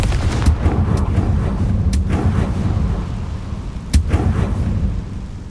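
A Confringo fire spell in the Hogwarts Legacy video game blasts out as a series of loud, sharp explosive bursts over a dense, rumbling backdrop of battle noise, with no talking.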